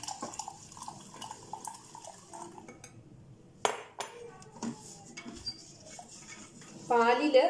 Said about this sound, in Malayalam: ദാ ഈ പാലെടുത്ത് കുറേശ്ശെയായി ഒഴിച്ചു കൊടുത്ത് നമുക്ക് നന്നായിട്ട് ഇതൊന്ന് മിക്സ് ചെയ്യാം